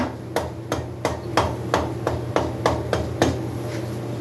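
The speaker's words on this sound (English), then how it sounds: "Rubber hammer. Do not use a metal hammer." A rubber hammer taps a cylinder on a 1970 Harley Davidson Leggero during a top end rebuild, about ten evenly spaced sharp knocks roughly a third of a second apart, close and alone over a low background hum.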